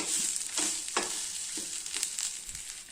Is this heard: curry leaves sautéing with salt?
yes